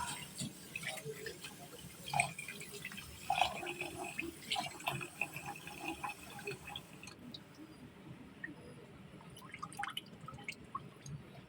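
Water trickles and drips into a container, with small splashes and clinks of a pot, fairly quiet in an indoor space.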